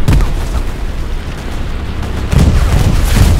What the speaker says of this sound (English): they've done a rifle bombing run